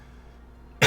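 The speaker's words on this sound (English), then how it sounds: "a lot of the coughing that we'll hear today" A single sharp cough bursts out near the end, loud and close after near silence, from a person whose lungs were dried out.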